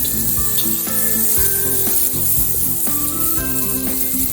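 Cauliflower and turmeric powder hiss and sizzle loudly in a hot pan with garlic, a constant frying noise under a faint melodic background of sustained tones.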